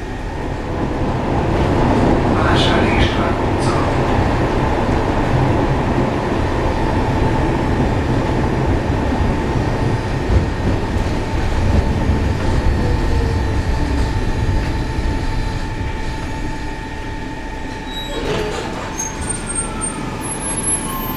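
A KCSV6 tram on line 1 in the evening rumbles steadily along the rails for a long stretch, with a constant drone, occasional squeals and clanks, and faint high tones near the end.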